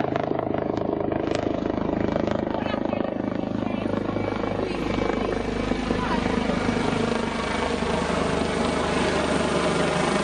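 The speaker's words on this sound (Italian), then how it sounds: "L'elicottero sopra la nostra testa." A helicopter passes overhead, its dense rotor and engine roar loud and constant throughout, while people talk underneath it.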